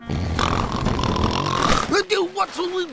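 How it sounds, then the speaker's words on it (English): Cartoon pig snoring in Peppa Pig: after a noisy stretch of background sound, a series of deep, rhythmic grunting snores rises and falls clearly in the last second. "Even with Grandpa Pig snoring next door."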